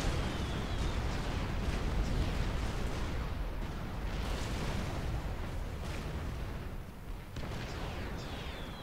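Mobile missile launchers fire in Supreme Commander: Forged Alliance, a dense, continuous wall of rumbling explosions and booming impacts that holds loud and steady with no pause, and no voices over it.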